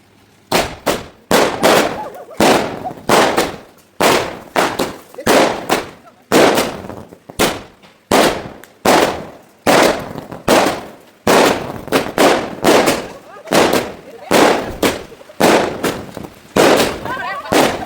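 Firecrackers at a midnight celebration burst in a long, rapid string of loud, close cracks, sometimes in quick clusters, with brief gaps between volleys.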